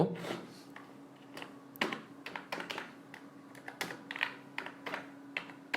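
Soft, close computer keyboard typing, quick irregular key taps in short bursts while entering a playlist name, with a faint steady hum underneath and quiet talk nearby.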